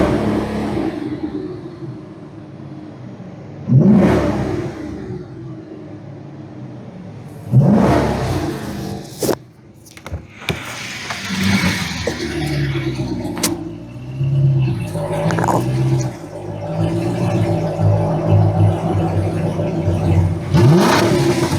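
A car engine with no aftermarket catback exhaust revs repeatedly, with several sharp throttle blips rising and falling over a steady running drone, loud and close.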